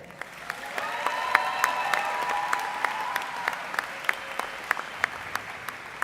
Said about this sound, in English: Graduates, please take a moment to applaud your parents and family members